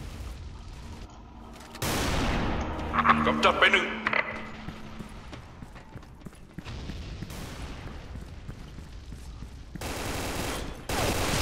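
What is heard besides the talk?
gunfire from video game Special Force 2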